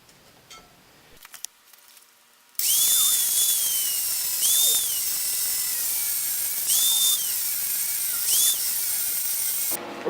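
A 5-inch piece of metal for a power steering reservoir bracket is cut with a power tool, a loud steady grinding whine that starts abruptly and surges in several short bursts over a quiet shop background.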